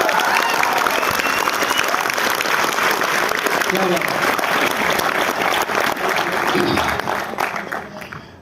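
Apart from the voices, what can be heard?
students applauding loudly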